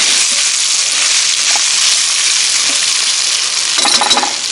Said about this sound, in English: as soon as that bacon starts to brown a little bit, go ahead and dump in all our potatoes. A little stir around in there.